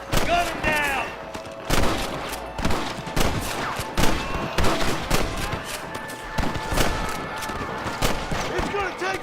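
Rapid, sharp gunshots crack repeatedly in an irregular fusillade during a Wild West shootout with bandits in Red Dead Redemption 2, with voices shouting between the shots.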